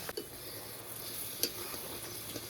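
Egg curry being stirred gently in a pan with coriander leaves, slit green chillies and garam masala, giving soft scraping and faint sizzling with a couple of light clicks, fairly quiet and close, no voices.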